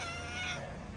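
A stray cat gives one short, faint meow, heard alone at moderate distance with no voices.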